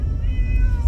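A single drawn-out cat meow, close and fairly loud, over a low rumbling background.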